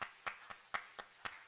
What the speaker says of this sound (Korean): 우리 한번 박수 한번 다시 한번 쳐보겠습니다